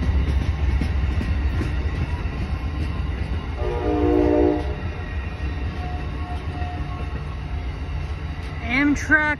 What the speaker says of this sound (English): November 5, 2021, northbound Amtrak 56 Vermonter.